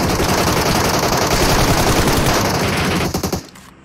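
Rapid automatic gunfire in the PUBG Mobile game, loud and dense for about three seconds before breaking into a few scattered shots and stopping.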